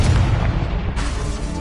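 Confringo fire spell exploding in Hogwarts Legacy: a loud, deep fiery blast with a broad roaring burst that stays dense and heavy for the whole moment before easing slightly.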